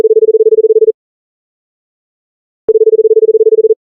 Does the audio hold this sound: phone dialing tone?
yes